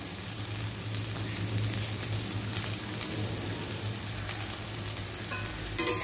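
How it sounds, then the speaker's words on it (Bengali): Yardlong beans and potatoes fry in a pan with a steady, close sizzle and crackle that continues throughout, with a few brief clinks near the end. "হয়ে গেছে আমার বরবটি আলু ভাজা"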